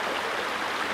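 Small waterfall on a river pours steadily into a flowing stream, a constant close broadband rush of water with no voices.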